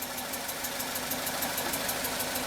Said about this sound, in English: So I'm going to go inside the vehicle and start the engine.